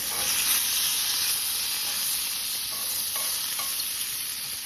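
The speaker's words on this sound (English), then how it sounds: "Steak's cooking. Probably need to flip it." Steak and asparagus frying in a pan on a camp stove during snow camping, a loud steady sizzle with hissing spatter close up, plus a few light metallic taps of tongs.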